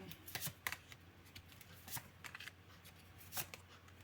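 Playing cards being shuffled close by, a series of quick riffling bursts with short pauses between them and no talking.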